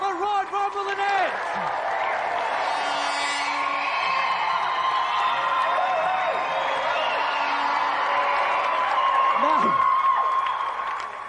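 A studio audience at a video-game TV show applauds steadily, with whoops and cheers rising over the clapping and voices shouting through the continuous, fairly loud crowd noise.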